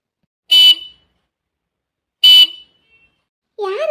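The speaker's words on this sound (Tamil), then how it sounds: "யாரு வாசல்ல நின்று ஹார்ன் அடிக்கிறது?" Two short, loud car horn honks at a house gate, spaced about two seconds apart, followed by the start of a voice speaking.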